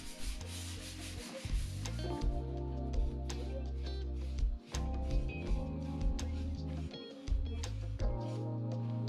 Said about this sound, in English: Gave it a light sanding and then apply some mahogany stains.